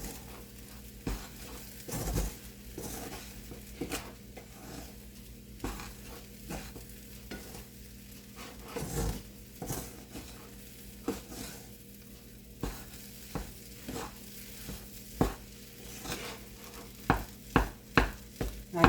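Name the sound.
kachori filling with oil being mixed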